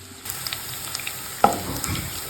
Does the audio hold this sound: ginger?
yes